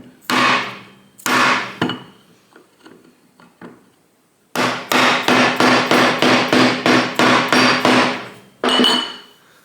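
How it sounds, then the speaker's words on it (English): Hammer strikes seat a part flush on a 1979-1984 Harley-Davidson four-speed rotary top gearbox during a rebuild: a few loud separate blows, softer taps, then a rapid run of about ten sharp hits and one final strike. "Actually, we'll hammer it down a bit more."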